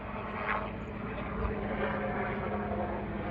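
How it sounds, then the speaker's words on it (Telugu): An Indian Army helicopter at a helipad on the Manali–Ladakh route gives off a loud, steady engine and rotor roar that holds unbroken at close range throughout. "హెలిప్యాడ్ దగ్గర హెలికాప్టర్ కూడా వచ్చేసింది."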